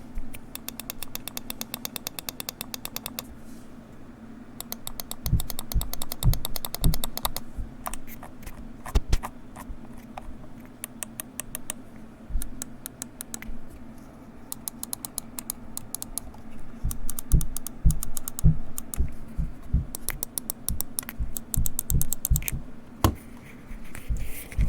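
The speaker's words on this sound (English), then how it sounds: "move my mic close to the Sensei, and we're going to do a quick click button test" Rapid bursts of sharp clicks from the buttons of a SteelSeries Sensei Ten gaming mouse, recorded close up, come in quick clustered runs and single presses with short pauses between them, with no talking.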